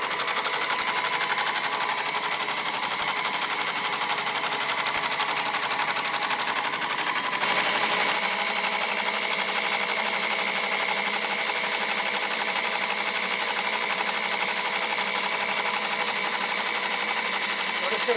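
An Office Clipper seed cleaning machine cleans carrot seed, running with a steady loud mechanical hum and fine rattling vibration that shifts in tone partway through and continues unbroken.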